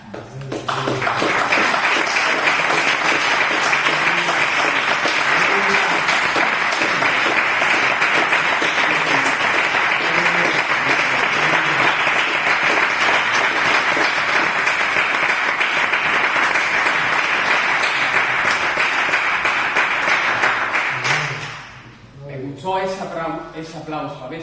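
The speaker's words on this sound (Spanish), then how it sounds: "Ese aplauso." Church congregation applause during an evangelism conference, a long, loud, dense wash of clapping that holds steady for about twenty seconds before stopping, followed by someone speaking.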